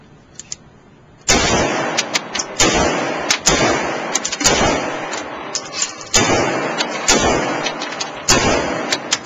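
An MP5 9mm submachine gun fires repeated three-round bursts. The loud, sharp cracks come in tight clusters separated by short pauses, with a roomy echoing tail after each burst.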